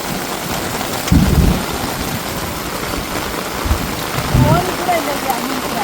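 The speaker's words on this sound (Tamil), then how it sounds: "நல்ல ஒரு மழைங்க" Heavy rain pours down at a village home, a dense, steady hiss throughout, with low thunder rumbles swelling twice, near the start and again toward the end.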